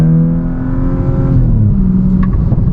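An Audi S4 engine revs hard under acceleration through corners, a loud, close, steady tonal drone that shifts pitch midway as the car brakes and turns, with no voices over it.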